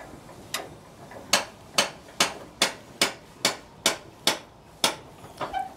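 A Logosol log lifter ratchets upward in a run of about ten sharp, evenly spaced clicks, close and distinct, with a small flurry of lighter ticks at the end.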